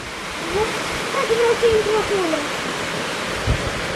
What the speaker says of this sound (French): il y a une rivière qui coule juste là